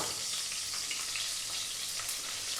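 Chunky-cut onion hits hot leftover pork oil in a wok for a stir-fried garlic pork dish, giving a steady, fairly quiet crackling sizzle that holds throughout with no voices.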